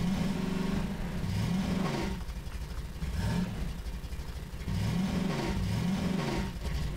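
A car engine in the Garry's Mod video game revs repeatedly in rising and falling sweeps, mid-pitched and fairly loud, with no talking.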